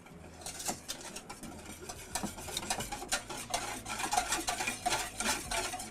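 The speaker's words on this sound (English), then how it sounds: "I'm going to mix that together." Vanilla cook-and-serve pudding mix is stirred into rice pudding in a pot, giving a close, continuous scraping and swishing that grows busier toward the end, with no voices.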